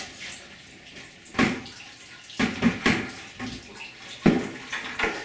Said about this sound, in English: I pour most of that water into my reservoir